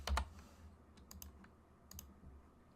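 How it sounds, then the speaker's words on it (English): A computer keyboard is typed on in a couple of short bursts: a loud double click at the start, then two quieter pairs of taps spaced about a second apart, close and dry over a soft room hum. "we're going to type in bump"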